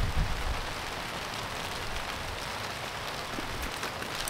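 Heavy rain pouring down outdoors on a fishing trip, a constant dense hiss of falling water with no breaks and no voices over it.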